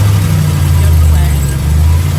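Truck engine running close and loud, a steady low rumble settling at idle throughout, with people talking over it.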